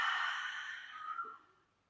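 A slow, breathy exhale from one person during a standing yoga warrior two pose, soft and close, trailing off gently into quiet with no talking.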